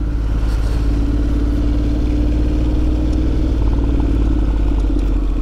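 Honda X-ADV750 motorcycle with DCT idling steadily while slipping into first gear, a close, continuous engine drone with faint mechanical clatter and no obvious clunk standing out.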